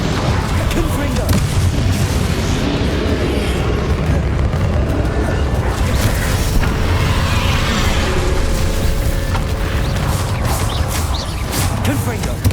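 Confringo fire spell blasts in Hogwarts Legacy, loud, booming bursts in a dense, steady wall of battle noise that continues for the whole stretch.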